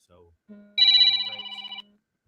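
A telephone rings once in a sustained electronic trill lasting about a second, following brief faint sounds, during a live crappie fishing talk show.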